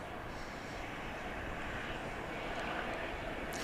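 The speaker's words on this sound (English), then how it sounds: "we have American Flight 777 coming in from Las Vegas" An American Airlines Airbus A321 jet landing at Dallas-Fort Worth airport after a flight from Las Vegas, its engines giving a steady, loud, broadband roar that holds throughout with no talk over it.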